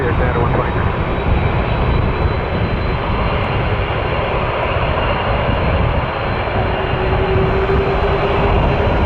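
An airliner lands at Toronto Pearson airport, heard as a loud, steady roar of jet engines and rushing air throughout, with a voice speaking over it.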